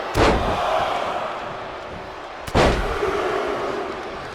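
Two sharp, heavy impacts hit about two seconds apart during a WWE 2K25 video game wrestling match, each a loud slam with a lingering crowd-like rumble behind it.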